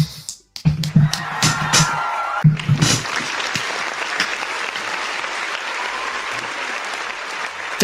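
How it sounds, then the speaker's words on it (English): Applause sound effect cued during a sports betting show: a short burst of handclaps and crowd noise, a brief cut, then sustained dense clapping that stays loud and steady to the end, with voices briefly audible at the start. "cue up that friggin' round of applause"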